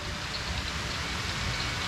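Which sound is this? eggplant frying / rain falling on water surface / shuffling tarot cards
rain falling on water surface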